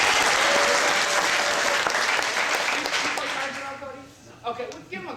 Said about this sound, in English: Cody, big round of applause for Cody.